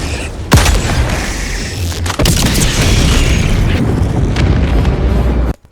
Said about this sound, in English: Explosions will distort and warp both the audio and the camera.